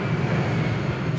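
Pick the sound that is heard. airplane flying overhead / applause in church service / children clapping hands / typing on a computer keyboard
airplane flying overhead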